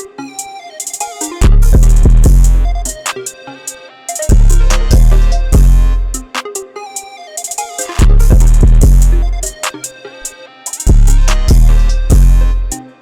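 A full trap beat made in FL Studio plays loud and alone, with booming 808 bass, hard drums and rapid hi-hats over a looping melody in a steady rhythm.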